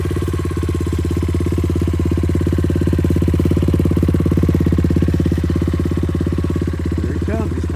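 Small 90cc pit bike engine running in the snow, a loud, steady buzzing drone that holds for several seconds close by, with no talk over it.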